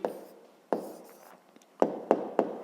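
Pen writing an answer on paper during a fifth-grade maths lesson, several short close scratchy strokes in bursts with quiet gaps between them, faint and without talk.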